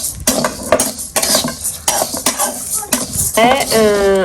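A utensil scrapes and knocks repeatedly against a pan while rice and coconut are stirred and roasted, close and loud with uneven strokes, followed by a brief voice near the end.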